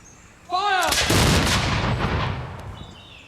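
A volley of muskets fires on command at an English Civil War reenactment: one loud, close, crashing blast after a brief shouted order, then a rolling echo that fades over a few seconds.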